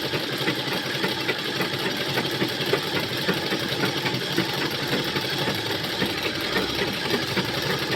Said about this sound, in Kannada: ಇದು ಸ್ವಲ್ಪ ಸೌಂಡ್ ಜಾಸ್ತಿ ಇರುತ್ತೆ ಮಿಷಿನ್ನು.